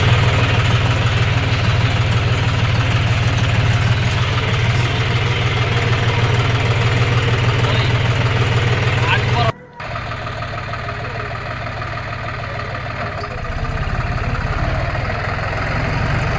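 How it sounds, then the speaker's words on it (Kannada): A loud, steady tractor engine idles and rumbles continuously as it leaves a mango orchard, with a brief dropout midway before the droning resumes. "ಈಗ ಟ್ರ್ಯಾಕ್ಟರ್ ಮಾವಿನ ತೋಟದಿಂದ ಬಿಡ್ತಾ ಇದ್ದೀವಿ ಗೆಳೆಯರೆ"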